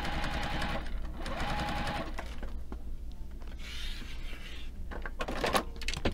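Juki sewing machine basting around fabric, a fast steady mechanical whirr with a rapid needle rhythm running nearly continuously, with brief softer shifts as the cloth is turned.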